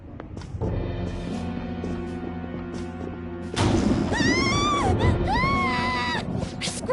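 A scream bursts out midway through a Persona 5 Royal scene, with loud, wavering cries that rise and fall over dramatic music after an abrupt crash.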